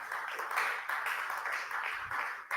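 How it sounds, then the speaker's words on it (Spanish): Applause fills a church service, a steady patter of many hands clapping together, moderately loud and continuous for a couple of seconds. "Démosle un aplauso al Eterno."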